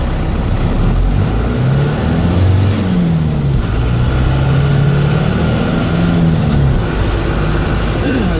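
A 4BT Cummins diesel engine runs loud and close, its pitch rising and falling through several revs as the truck peels out, a steady mechanical roar that carries throughout with no talk.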